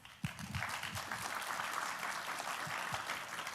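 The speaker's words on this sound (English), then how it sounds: "Give her a round of applause." Sustained applause from a small audience at a music recital, a dense patter of clapping that stays even and moderately distant throughout.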